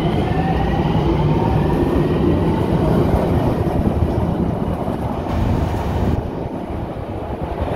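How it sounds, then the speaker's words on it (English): A Miami Metrorail green line train passes through Dadeland North station, a loud, continuous rumble and rattle of rail cars that holds steady throughout, with no voices. "That was a green line train."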